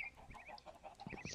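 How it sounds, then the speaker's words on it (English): Chickens in the Minecraft game clucking in a scattered series of short, bright calls, several overlapping at moderate volume with no talk. "I can hear them all clucking away back there."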